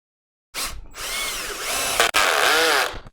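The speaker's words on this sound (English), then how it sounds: "I just take a drill a hole, 3/8 hole for the woodworm" A power drill bores a 3/8-inch hole into the centre of a wooden bowl blank for a woodworm screw, whining loud and close in two bursts split by a brief sharp catch.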